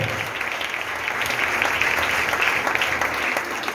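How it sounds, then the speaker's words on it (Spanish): A church congregation applauding the Lord during a sermon on spiritual fatherhood at an anniversary service, steady dense clapping filling the hall at full strength throughout. "Todos los que son hijos, den un aplauso fuerte al Señor"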